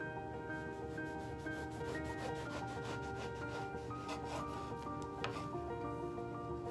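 A knife saws through a soft brioche loaf from the bakery, cutting thick slices with steady, close rubbing strokes over faint background music.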